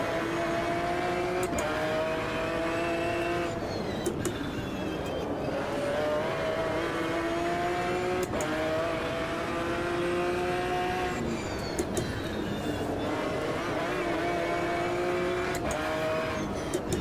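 A racing car engine in Automobilista 2 roars continuously, pitch climbing through the gears with sharp drops on each shift, steady and loud with no talk.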